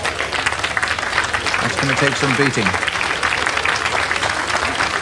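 Crowd applause rises from outdoor spectators at a 1988 Britain's Strongest Man rope-pull event, a steady wash of clapping running throughout beneath a commentator's voice.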